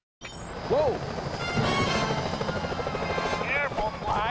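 Security helicopters from Sly Cooper: Thieves in Time fly past with a loud, sustained rotor drone that rises in and holds, with a voice and small effect sounds layered over it.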